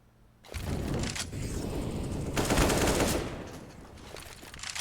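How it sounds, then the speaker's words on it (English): Rapid bursts of AUG rifle fire during a Counter-Strike match on the Mirage map, a loud, dense rattle of repeated shots that swells and fades across the whole stretch with no talk. "Daryl spamming through this smoke, almost able to land more damage onto Arc there. Does tag him for about 24 with that AUG"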